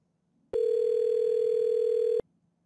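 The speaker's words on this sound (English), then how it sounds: "I can also make a call from here and just dial using my dial pad" A steady single-pitch tone sounds on an Avaya soft phone while an outbound call is dialed from its dial pad, holding loud and unbroken for under two seconds before cutting off abruptly into quiet.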